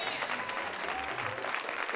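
Steady applause from a crowd at a church holy convocation, a dense wash of clapping that holds at an even level throughout.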